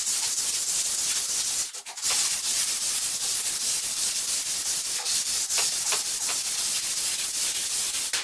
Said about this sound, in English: I'll use this curved sanding block with a couple of 80 grit discs on here